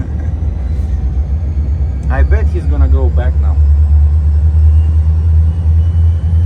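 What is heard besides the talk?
truck engine idling nearby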